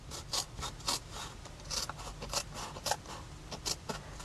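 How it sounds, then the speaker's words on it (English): Scissors trimming around the edges of thick glued-down material, a series of quick, close rasping snips in an irregular rhythm, fairly soft. "what I've got to do next is trim around the edges"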